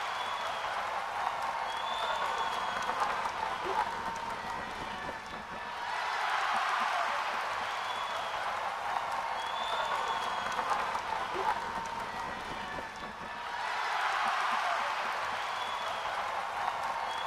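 A crowd in a frenzy cheers a sword fight between two girls, a dense, sustained roar of clapping and shouting that swells in waves and stays loud and continuous throughout.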